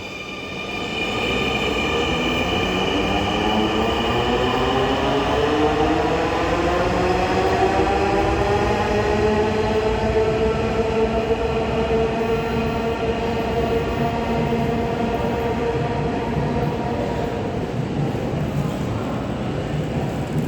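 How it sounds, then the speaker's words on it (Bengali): A metro train's electric motors whine in rising and falling tones over a constant loud rumble as it pulls away from Uttara station, with no talking. "এখন ট্রেনটি চলে যাবে"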